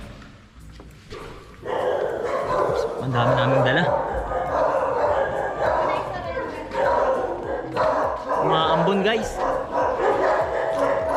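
Small dogs yip and bark in short bursts while people talk over them in a busy indoor space.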